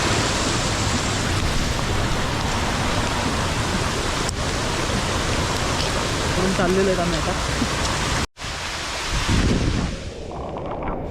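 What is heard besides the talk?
heavy rain in the hills at Matheran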